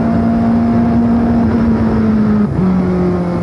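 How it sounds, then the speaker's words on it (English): Onboard with Graham Hill in a 1970 Formula 1 car at the Monaco Grand Prix, the engine screams loud and close on a steady high note, with a short dip partway through as it shifts up a gear. "Accelerate up from second into third, into fourth, into the tunnel, through the tunnel"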